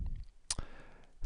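A single sharp mouse click lands near the middle, with a fainter click near the end, both crisp and close against a quiet room.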